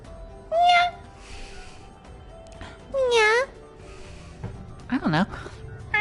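A cat meows three times, in short rising and falling calls spaced a couple of seconds apart, heard close and clear over a quiet background during a Sonic Frontiers game stream.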